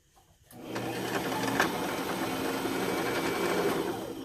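A home sewing machine runs steadily while winding a bobbin, producing a continuous motor whir and hum that starts abruptly and stays even and fairly quiet throughout.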